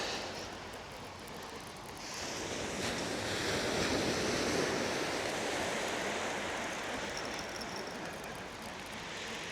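Wind gusting across the sea at Brighton beach during February plaice fishing, with steady surf washing beneath, rising a little stronger after a couple of seconds and staying loud and continuous throughout, buffeting the microphone.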